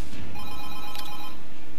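Telephone ringing in a Planet Coaster game, a loud electronic bell-like ring that starts quickly and holds steady for about a second before stopping.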